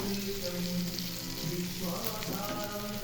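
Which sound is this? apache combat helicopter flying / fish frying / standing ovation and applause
fish frying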